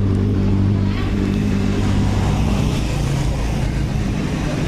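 The engine of a Honda Supra X 125 motorcycle, just back from repair, runs steadily at close range, a loud, dense rumble that holds level throughout.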